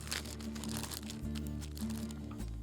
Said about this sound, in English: Now place the scored pork roast in a jumbo resealable plastic bag.